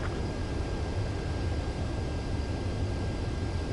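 Steady broadband jet roar of a fighter aircraft on final approach for landing in the combat flight game Ace Combat 7, a continuous even rush with no voices.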